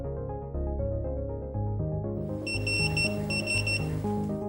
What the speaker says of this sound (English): Two beeps indicate login succeeds.